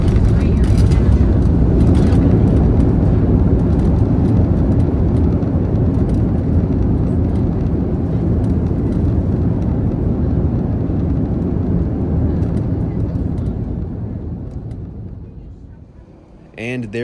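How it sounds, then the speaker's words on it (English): Allegiant Air airliner approaching and touching down on runway 22 at Peoria, heard from inside the cabin as a loud, steady, broadband engine and airflow roar that eases off toward the end. "coming in past the city for a landing on runway 22"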